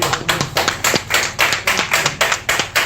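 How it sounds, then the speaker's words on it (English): Hands clap in a steady, regular rhythm, with sharp repeated claps spaced evenly at a brisk tempo and heard close and fairly loud. "I said we should put our hands together, clapping."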